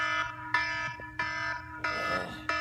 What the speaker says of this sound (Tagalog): tingog ng alarm. Kaning na siya tingog na.